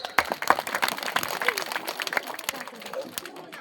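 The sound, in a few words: audience applause at a school quiz event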